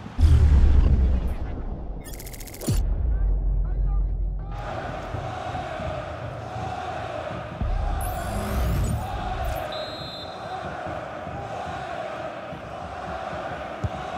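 Stadium crowd noise in the FC 24 football video game during a Champions League simulation, Bayern München against Arsenal: a steady loud roar of fans with swelling surges, and a commentator's voice at times over it.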